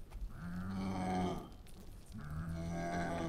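Cows in the video game PINE moo twice in long, low, drawn-out calls near the listener, with a short gap between them and no talk.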